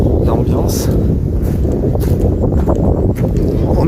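Strong wind buffets the microphone on the bank of the Canal du Midi, a loud, steady roaring rumble that fills the whole clip and nearly buries a voice beneath it.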